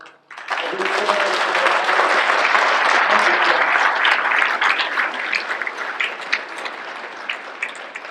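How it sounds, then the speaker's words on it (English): A dinner audience at an annual recognition event breaks into loud, full applause that swells quickly and holds steady as a dense roar of clapping, thinning slightly near the end. "Let's give Jim a special round of applause."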